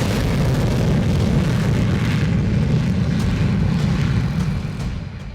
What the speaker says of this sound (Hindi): लड़ाकू विमानों की विध्वंसक गर्जना, दहल उठा दुश्मन का कोना कोना।